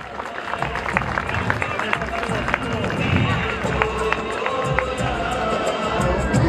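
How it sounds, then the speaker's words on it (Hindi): A crowd gives loud, sustained applause as flowers are offered in tribute to Babasaheb at a constitution knowledge competition in Sirsa, with thick clapping and crowd murmur running continuously. "बाबा साहब को पुष्प अर्पित करते हुए और इनके बताए हुए मार्ग पर चलने की प्रेरणा लेते हुए एक बार जोरदार तालियां"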